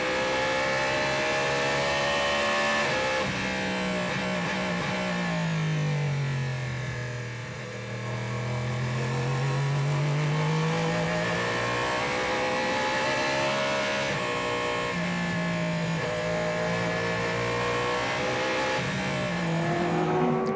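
On-board sound from a Cadillac race car at the 8 Hours of Bahrain, loud and close, with the engine holding a steady high drone, easing briefly as it lifts off and then climbing back through the revs.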